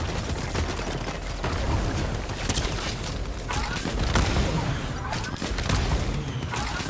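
Turret gunfire in Fortnite Chapter 5 Season 3: a dense run of rapid sharp bursts and crashing impacts, loud and continuous, with sharper cracks near the end and voices mixed underneath.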